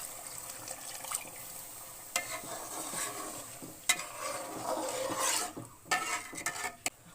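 Beef tripe in a pan with hot water just added, a soft bubbling sizzle broken by sharp clinks and scrapes of a spoon against the metal, close by and with no one talking.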